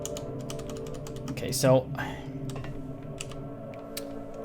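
Computer keyboard keys pressed in a quick scattered run of light clicks throughout, close by, with someone briefly speaking partway through.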